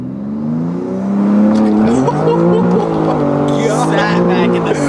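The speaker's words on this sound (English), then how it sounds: "All wheel drive launch." An all-wheel-drive car launches hard, its engine note rising steadily with a squeal of tires, loud and close from inside the cabin, while excited voices talk over it.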